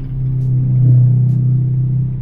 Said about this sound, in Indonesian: Tuh ada motor yang knalpotnya begitu,